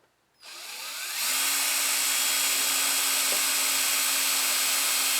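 A power drill fitted with a 1/16 inch bit bores a hole during a go-kart throttle cable build, starting after a brief silence and spinning up into a loud, steady whine that holds to the end.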